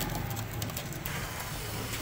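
Parwazi pigeons at a loft in Faisalabad give low, faint cooing against a quiet, muffled background.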